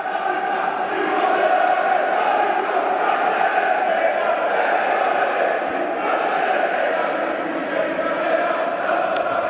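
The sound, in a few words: Napoli futsal fans cheering in the arena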